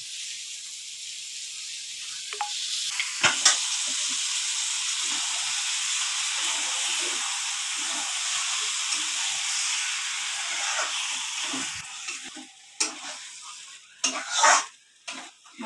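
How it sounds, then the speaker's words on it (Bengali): Marinated chicken stirred and fried in hot spiced oil in a pan, a loud continuous sizzle with occasional scraping clinks of a spoon against the pot, louder stirring bursts near the end. "মাংসটাকে ভালো করে কষিয়ে নিতে হবে।"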